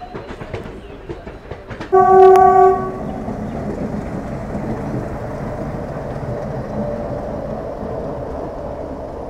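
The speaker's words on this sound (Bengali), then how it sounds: "এই মুহূর্তে আমার ট্রেন ছেড়ে দিল শিয়ালদহ রেলওয়ে স্টেশন থেকে।" A loud train horn blares for about a second, then the rumble and clatter of an express train pulling away from Sealdah station in Kolkata fills the rest, with no voices.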